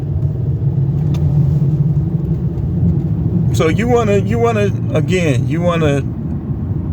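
Cars pass at a traffic light, a steady low rumble of road traffic running throughout, with someone speaking over it partway through.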